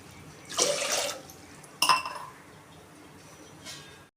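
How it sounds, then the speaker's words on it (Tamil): Water poured from a cup into a metal pan with sugar for gulab jamun syrup, two short splashing pours with a clinking of the vessel and a fainter third trickle, close and alone. "ஒரு 4 கப் தண்ணி ஊற்றிக்கணும்."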